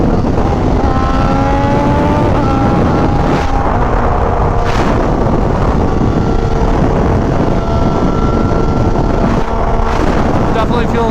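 An MV Agusta Superveloce motorcycle fitted with an SC Project exhaust is ridden on the road. Its engine note rises and falls through gear changes, loud and continuous under heavy wind buffeting at the microphone.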